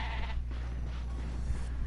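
A short black goat's bleat in the video game Ratchet & Clank on PS4 rises over a steady low hum and background noise, with a second faint bleat near the end.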